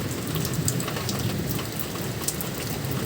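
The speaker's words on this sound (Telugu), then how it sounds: "ఫుల్గా కురుస్తుంది వర్షం" Heavy night rain pours steadily, a dense continuous hiss with scattered nearby drips and splashes, and no one speaks.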